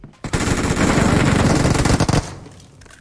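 Rapid, loud burst of AMR rifle gunfire in PUBG Mobile, a dense volley of close shots running for about two seconds before cutting off abruptly, followed by fading reverberation.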